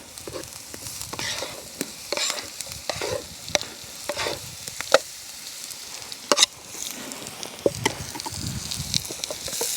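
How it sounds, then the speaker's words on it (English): Steady sizzling and crackling of rutabagas frying in a hot pan, with scattered pops and a few stirring scrapes, no voices. "So let's get the rutabagas in."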